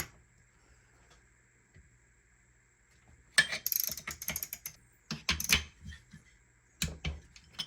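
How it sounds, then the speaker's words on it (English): A ratcheting torque wrench tightens engine bolts on a 1973 Yamaha CT3 175 during a rebuild: quiet at first, then bursts of rapid metallic clicking in several short runs, close and fairly loud. "Okay, these get torqued down to 18 foot-pounds."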